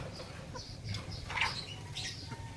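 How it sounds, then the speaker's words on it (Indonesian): An Ayam Cemani chicken (Rejek Wesi type) gives soft, scattered clucks over faint background noise, moderately close. "nah ini yang anakan cemani rejek wesi tadi"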